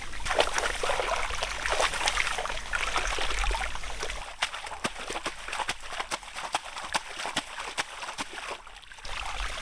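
Rice seedling roots swished hard through paddy water to rinse off mud during monsoon transplanting in a Konkan village, giving rapid splashing and sloshing pulses that grow choppier in the second half, close by with outdoor rain ambience.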